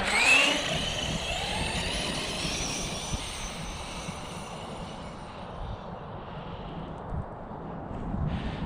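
An Arrma Talion 6s RC car with a Hobbywing Max6 1650kv motor accelerating, a rising electric whine that fades as the car moves off, over a steady gravelly rumble of tires on the ground.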